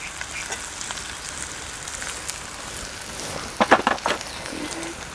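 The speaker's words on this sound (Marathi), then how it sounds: "छान असं आपण हे परतून घेऊया." Grated coconut sautéing in a pan with turmeric and onion-garlic masala, a soft continuous sizzle with a short burst of louder spoon scraping and clatter toward the end.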